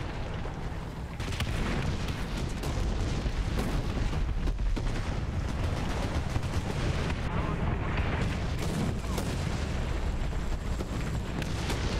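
Booming artillery fire rumbles through a War Thunder tank battle with Japanese tier 1 tanks, a dense, continuous low roar of distant blasts and gunfire, with someone talking over it.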